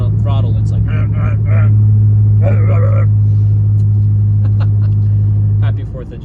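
BMW F10 M5 with Turner muffler delete idling with a deep steady exhaust drone, held loud and close, then dropping off near the end, while someone talks over it.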